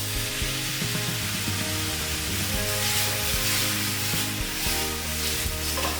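Steak pieces fry in a pan over high heat with a loud, continuous sizzle and spatter, close up, alongside low rumbling hum and occasional scrapes.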